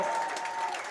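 Players and crowd at a Stockade FC versus Elm City Express soccer match clap steadily for a full second, a dense patter of hands with a faint sustained tone running underneath.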